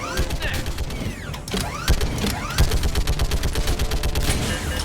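Rapid gunfire from enemy engagements in Mass Effect 3, loud and close, with irregular single shots giving way to a dense stuttering volley, plus mechanical clicks and whooshing sci-fi effects.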